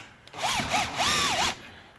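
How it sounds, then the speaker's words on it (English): Cordless power drill driving a homemade transmission helper jack under a car, whining in short bursts that rise and fall in pitch, three pulses with the last one longest, close and clear. "I use my drill, basically just jack it up a little on each side"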